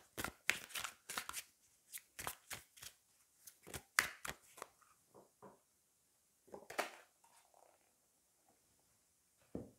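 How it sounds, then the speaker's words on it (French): Oracle cards being shuffled and drawn, a run of crisp papery riffles and slaps in quick bursts, close and fairly quiet, pausing midway before a final flurry, with no talk. "je vais prendre une dernière carte et puis on ira voir les cartes oracles"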